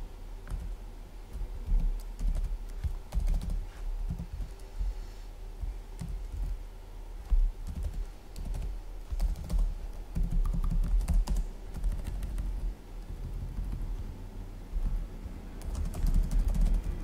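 Steady computer-keyboard typing while writing JavaScript unit tests, with quick irregular clicks and small bursts of keystrokes continuing throughout at a moderate, close level, with no talking.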